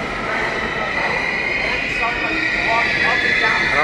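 A New York City subway train in an underground station gives a steady loud rumble with squealing wheel tones throughout, close and continuous.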